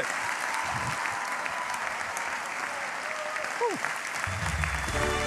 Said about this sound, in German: Dankeschön für euren Applaus